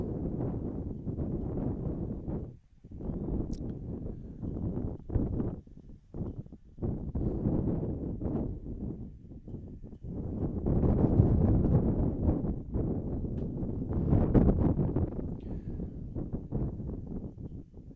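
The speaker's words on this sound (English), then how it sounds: "Wind is going down a little bit. It's not quite as bad as it was." Gusty wind at an outdoor cross country race, buffeting the microphone in loud, rumbling surges that swell and briefly drop away, with no clear talk.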